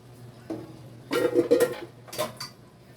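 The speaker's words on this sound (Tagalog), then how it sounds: "nalaglag ng chopstick" A chopstick falls and clatters among dishes and cutlery, giving a brief burst of light clinks and rattles, then a second smaller clatter, close by in a quiet kitchen.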